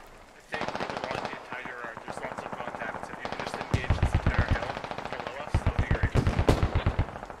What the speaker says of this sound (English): Moses hops on the rear HMG, starting to shoot.